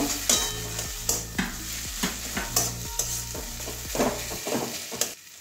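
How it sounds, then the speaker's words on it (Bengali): Kundri bharta stirred in a frying pan after garam masala powder goes in: a steady rhythm of repeated scraping strokes, about two per second, over a continuous close sizzle, with no talking. "এবারে একটু গরম মশলার গুঁড়ো দিয়ে দিচ্ছি। এটা ভালো করে মিশিয়ে নেব।"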